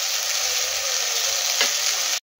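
Chicken leg pieces frying in a pan of oil, a steady close sizzle with a brief stir near the end before it cuts to silence.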